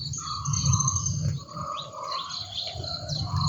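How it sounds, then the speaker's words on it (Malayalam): Morning birdsong in a home garden, several clear whistled chirps and calls near and far over a low murmuring background. "രാവിലെ തന്നെ കിളികളുടെ ശബ്ദം മാത്രമേ കേൾക്കുള്ളൂ"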